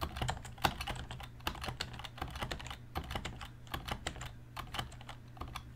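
Rapid, uneven clacking of keys on a Color Computer (CoCo) keyboard, typed close up in irregular bursts with no voices over it.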